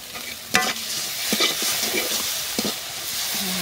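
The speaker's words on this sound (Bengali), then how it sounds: "আমার মশলা ভাজা হয়ে গেছে" Spices frying in oil in a pan give a steady close sizzle, broken by a few sharp clinks and scrapes as they are stirred.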